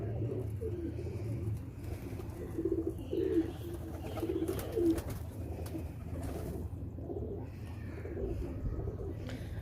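Chinay pigeons coo in a steady, overlapping chorus of low, throaty calls, fairly close, with no talking.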